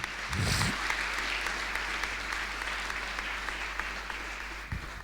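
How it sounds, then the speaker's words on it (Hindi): Church congregation applauding in praise during a Hindi sermon, a dense, steady wash of clapping that fills the whole stretch, loud and close, with a brief low thump near the start. "कम ऑन, तालियां बजाएं और परमेश्वर को महिमा दें"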